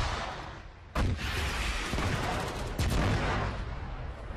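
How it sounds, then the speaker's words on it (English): Rocket launch from an RPG at a vehicle in the Arma 3 video game, a sharp loud blast followed by a rumbling explosion and a second heavy crack, dense and close with no talk. "so I'm going to try and RPG it."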